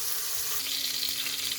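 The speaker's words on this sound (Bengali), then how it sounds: "প্রেসার কুকারে সরষের তেল দিয়ে দিয়েছি। এখন পেঁয়াজ, মরিচ, তেজপাতা, আদা, রসুন ভেজে নেব।" Onion, chili, bay leaf, ginger and garlic fry in mustard oil in a pressure cooker, giving a brief, bright, even sizzle heard close and alone, with a small knock at the very end.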